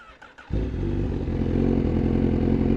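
A motorcycle engine starts after about half a second of quiet, then settles into a loud, steady, close idle with a rough, rumbling tone that continues to the end.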